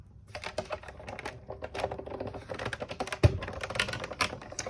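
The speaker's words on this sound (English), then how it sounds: "I'm going to pop it through our die cutting machine" Paper and a die are fed through a manual die cutting machine, giving a quiet, close series of rapid clicks and rattling taps as the plates crank through, with one sharper knock near the end.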